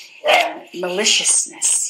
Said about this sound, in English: And you'll excuse my dogs.